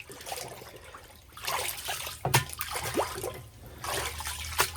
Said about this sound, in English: So now we just stick it in the pickle. And we'll make sure we get all the air bubbles out